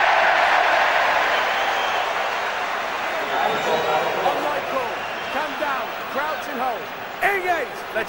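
Big rugby test-match stadium crowd roaring and cheering, a loud sustained wash that dips and swells over several seconds, with a commentator's voice rising over it in the later part.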